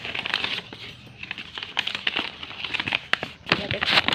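Paper crinkles and rustles in short bursts up close, with a few sharper crackles as packaging is handled; faint voice briefly in the background.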